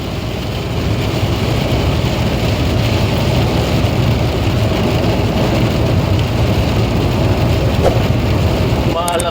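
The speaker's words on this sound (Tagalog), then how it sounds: "Tuloy-tuloy pa rin ang ulan. Grabe oh, lakas oh." Heavy, relentless rain pours down in the Philippines and floods the roadside, a loud steady hiss that never lets up. A low engine rumble sits underneath, and a few faint sharp sounds come near the end.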